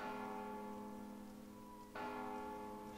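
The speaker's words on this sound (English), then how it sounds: "Bell sound." A bell in the video game Mark of the Ninja rings with a sustained, resonant tone that slowly fades, then is struck again near the end for a fresh bright peal, heard alone.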